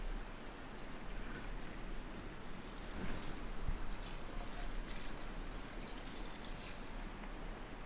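Water poured into a pot for an Azerbaijani chickpea and meat soup (piti), a steady rushing splash that runs unbroken for about eight seconds, fairly faint, with no voices.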